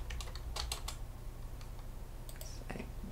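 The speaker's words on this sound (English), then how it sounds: "I just smash my keyboard and create messes." Quiet, close bursts of typing on a computer keyboard, clusters of quick key clicks separated by short pauses, over a low steady background hum.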